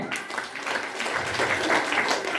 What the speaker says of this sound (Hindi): हमको रिएक्शन के लिए जोरदार ताली देनी चाहिए